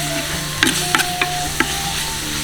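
Ingredients for khanom jin nam pu na, rice noodles in field-crab sauce, are stir-fried in a pan with a steady close sizzle and four quick utensil scrapes and clinks.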